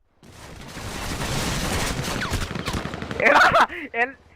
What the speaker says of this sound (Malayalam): എടാ വെടി വരുന്നടാ.